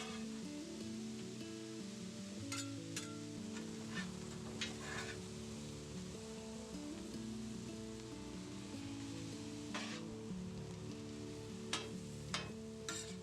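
Ground beef for taco meat browns on a griddle, a steady close sizzle with occasional crackles and scraping stirs.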